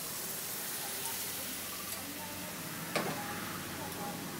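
Sugar and water boil in a wok for papaya chutney, giving a faint, steady bubbling sizzle with light ticking pops and one brief clink.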